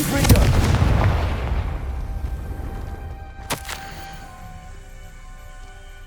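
Confringo fire spell explosion in the Hogwarts Legacy video game, a loud booming blast that rumbles and fades, then a sharp crack partway through.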